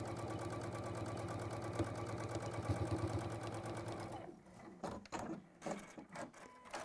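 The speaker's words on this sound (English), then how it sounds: "I'm going to put that holding stitch in, and then we just finish and sew off the end." A sewing machine stitches across the end of a fabric bag in a fast, even whirr for about four seconds, then stops, leaving a few soft clicks and handling noises.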